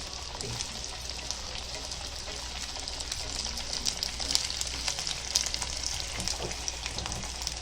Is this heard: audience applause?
no